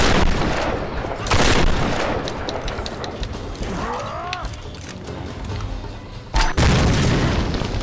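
Grenade explosions and gunfire in Tomb Raider Definitive Edition, heavy booms and rattling shots, dense and loud throughout, ending in a sudden sharp blast, with a voice rising briefly in the middle.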